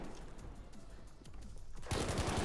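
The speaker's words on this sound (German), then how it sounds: "Der hat gerade geschossen." Gunfire in the video game Battlefield 5, with quiet ambient game sound giving way to a loud, rapid burst of shots near the end.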